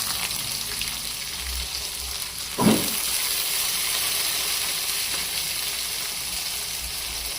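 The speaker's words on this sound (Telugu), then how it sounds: "ఉల్లిగడ్డలు మగ్గుతున్నాయి" Onions frying in a pan for a dried prawn and tomato curry, a steady broad sizzle and hiss throughout with one brief louder stir or clink partway through, no voices.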